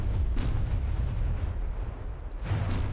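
Ship guns fire in a naval video game battle, producing deep, rumbling booms that merge into a sustained low roar, with a couple of sharper bursts standing out near the start and end.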